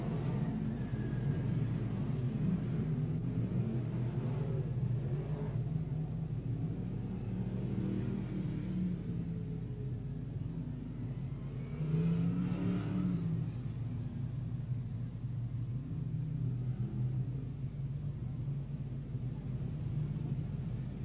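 Sprint cars roll and idle in a pack behind a pace vehicle at a Newcastle speedway during a main event, a steady loud engine rumble with occasional revs rising and falling throughout, no one talking.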